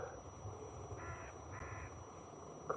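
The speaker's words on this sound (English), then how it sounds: "Crow, I think." A crow caws outdoors on a drizzly morning in Scotland: two harsh calls in quick succession, moderately distant over quiet background ambience.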